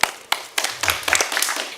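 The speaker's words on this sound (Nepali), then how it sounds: "उहाँहरूलाई जोरदार ताली" An audience claps, starting with a few scattered sharp claps that quickly build into dense, continuous applause close by, with no talking.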